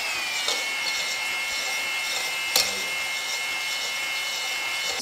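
Cylinder hone spinning inside an engine cylinder to remove rust during an engine rebuild, a continuous high whirring grind held steady, with a couple of brief sharp clicks.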